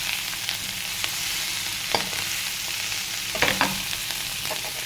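Leafy greens are stirred into onions frying in a pan, producing a steady hiss of sizzling oil with occasional soft scrapes of a spatula, continuous and close.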